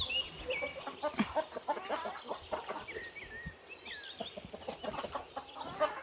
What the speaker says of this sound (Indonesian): ayo kita kasih makan ayam